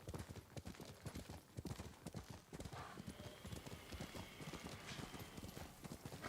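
Horse hooves clip-clop steadily through a Ghost of Tsushima game scene, a fast, continuous trotting rhythm that stays close and clear for the whole stretch, with an occasional faint whinny mixed in.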